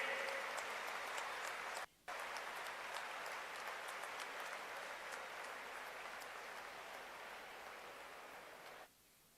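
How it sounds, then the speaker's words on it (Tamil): A large arena audience at the opening ceremony of the 44th Chess Olympiad applauds in a broad, even roar of clapping that runs without pause, with a brief dip partway through and a fade at the end. "இன்னொரு முறை அரங்கம் நிறைந்த கைத்தட்டல்கள்"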